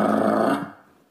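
A person imitates a dog growling: a short, loud, rough vocal growl lasting about half a second, then trailing off, with no other sound.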